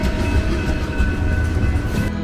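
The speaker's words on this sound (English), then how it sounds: "To pass this train it can take you like 7-10 minutes on one intersection." A long freight train rumbles steadily past in White Rock, Canada, with a continuous heavy roar and faint metallic tones, loud and close throughout.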